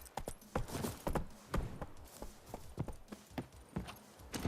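Hooves of Roach, Geralt's horse in the video game The Witcher 3: Wild Hunt, clip-clop in a quick steady gallop rhythm, close and clear, with faint game ambience behind and no talking.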